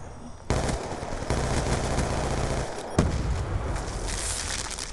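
Vector submachine gun fire in Black Ops 2, with dense continuous automatic bursts and a sharp louder shot near the middle, loud throughout with no talk.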